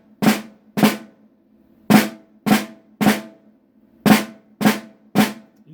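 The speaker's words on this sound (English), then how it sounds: "This would be a right flam." Right flams on a snare drum, eight sharp grace-note-and-main-stroke hits spaced unevenly about half a second to a second apart, close and clear with a ringing tone and no talking.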